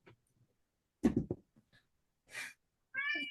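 Pet cat giving a short vocal call at close range, with a rising meow-like tone near the end after a few quiet breathy and scuffling sounds.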